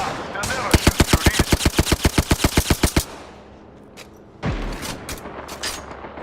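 Video game gunfire: a fast automatic burst of around fifteen evenly spaced, loud close shots, then a pause and a heavy low thump followed by scattered softer game sounds.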